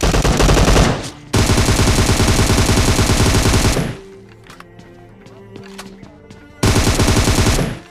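Automatic AR rifle fire in the BGMI mobile battle royale game: loud, sustained bursts of rapid shots that pause for a quieter stretch of scattered distant pops, then resume at full volume.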